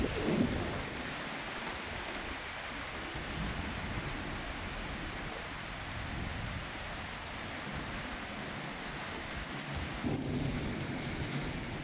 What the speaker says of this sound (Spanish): Tenemos una tormenta de miedo.